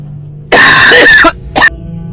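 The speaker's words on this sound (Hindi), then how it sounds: "एक बूढ़ा खांसता है" An old man coughs hard and close: one long, harsh hacking burst followed by a shorter second cough.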